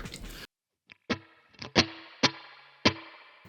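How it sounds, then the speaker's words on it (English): Sharp guitar hits through a TC Electronic Combo Deluxe 65' amp ring out in a drenched, splashy spring reverb emulation, each strike trailing a metallic wash; five or six hits spaced irregularly. "you can also adjust your reverb as to not only the intensity of your reverb, which is a lovely spring reverb emulation."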